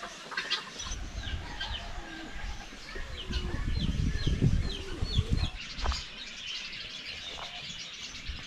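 A flock of chickens and roosters on a farm cluck and chatter continuously, with a busy scratching, fluttering patch in the middle and chirping birds mixed in.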